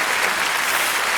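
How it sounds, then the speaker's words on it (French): Steady audience applause with some cheering fills a comedy show hall, dense and continuous throughout. "avec l'acclamation des femmes de cette salle"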